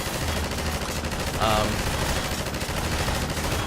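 Rapid gunfire from Half-Life 2 weapons crackles steadily through a dense, busy game battle mix, with a brief louder burst standing out midway.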